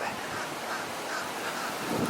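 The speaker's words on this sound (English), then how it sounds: "Ooh, that wind. Gotta hold on to the hat." Gusty wind buffets the microphone during an outdoor walk at a Universal Orlando resort, a steady, loud broadband rush with no speech over it.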